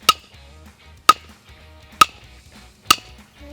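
Flint is struck with a hammerstone during flint knapping: four sharp, ringing stone-on-stone cracks spaced about a second apart, close and clear over a quiet background.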